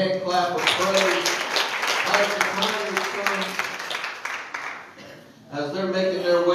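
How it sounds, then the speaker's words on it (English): A church congregation claps in praise, steady rhythmic handclaps over a backdrop of music or singing, dipping briefly near the end before resuming. "Can you give the Lord a good hand clap of praise?"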